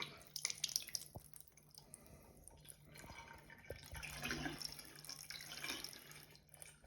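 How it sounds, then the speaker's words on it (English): A toilet flushes, water rushing down into the siphon jet channel in a faint, steady gurgling wash with scattered drips and splashes that swell toward the middle, with no voices. "See that huge rush of water coming down right here into the siphon jet channel."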